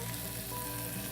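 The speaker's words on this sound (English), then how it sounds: "You can hear it sizzling." Steady hissing sizzle of chicken frying in a hot skillet, a continuous crackle close by with no talking.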